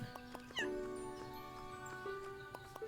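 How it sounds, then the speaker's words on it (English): A cat meowing in the farm sim video game Everdream Valley, several clear meows over tonal background game music with chimes, fairly loud and close. "Hey, kitty cat."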